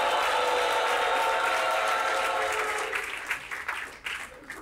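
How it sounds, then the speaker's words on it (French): Loud studio-audience applause welcoming a couple joining a French-language TV talk show, a dense steady clatter that thins into scattered individual claps near the end. "On les applaudit très fort."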